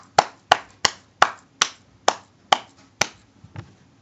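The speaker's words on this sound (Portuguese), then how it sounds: "Foi brincadeira, você simplesmente aplaude." Nine sharp, evenly spaced hand claps ring out one after another in a steady rhythm, close and distinct with brief gaps between them, the last few slightly softer.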